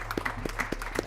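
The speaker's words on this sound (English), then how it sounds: "So let's give her a round of applause." Brief applause from a meeting audience, a few distinct, fairly close claps in a loose rhythm over low room noise.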